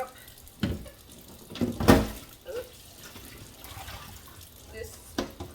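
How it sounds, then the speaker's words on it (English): Soapy water from a guinea pig's bath being dumped out, heard as a few short splashing pours, the strongest burst near the middle, with quieter water movement around them. "soapy water out, and we're going to start the rinse process"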